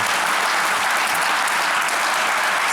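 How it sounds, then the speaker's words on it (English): A theater audience applauds steadily and densely for a storytelling show in DeKalb, a continuous wash of clapping with no pauses. "how about one more round of applause for DeKalb County Storytellers?"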